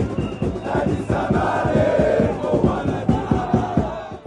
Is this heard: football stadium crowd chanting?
yes